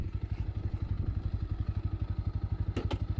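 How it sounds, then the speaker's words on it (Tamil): A 2025 Bajaj NS160 motorcycle idles close by, its exhaust thumping in a steady, even rhythm at low revs, with a brief rattle near the end. "இப்போ வந்து ஐடலிங்கில் உங்களுக்கு எக்ஸாஸ்ட் நோட் எந்த மாதிரி இருக்குன்னு பாருங்கள்."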